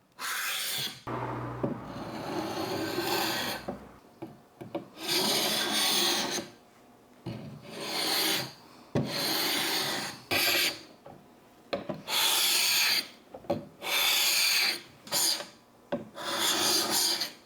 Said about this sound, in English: You don't have to go as low in sandpaper grit and risk sanding through the veneer